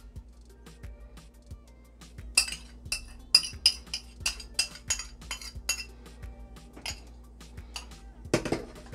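Mango flan mixture being stirred in a bowl, a string of sharp clinks as the utensil knocks the sides, sparse and irregular, with a brief shuffle near the end.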